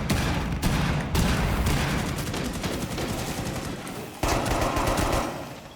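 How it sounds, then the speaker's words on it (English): Fuze's cluster charge detonating in a first-person shooter video game, a rapid string of heavy blasts rolling continuously and loudly, ending with a final louder burst before fading. "Detonate the cluster charge!"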